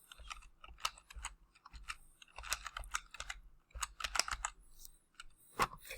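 Fingers type on a computer keyboard, a close, quiet run of irregular clicks and key taps with brief pauses between bursts and no talking.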